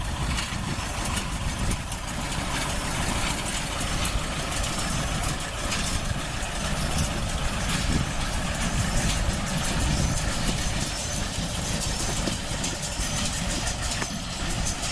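Tractor engine idling out in a hayfield, a steady low rumbling drone that continues evenly for the whole stretch with no speech.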